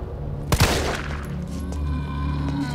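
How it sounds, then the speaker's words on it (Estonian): Two quick gunshots ring out in the Resident Evil 3 demo video game, a sharp close double crack that decays over a steady in-game ambient drone. "Kolm lasku."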